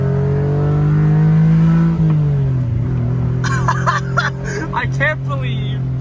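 A tiny three-cylinder Honda car engine held around 5,500 RPM gives a loud, steady buzzing drone heard from inside while driving. The pitch dips briefly midway, and a voice talks over it in the second half.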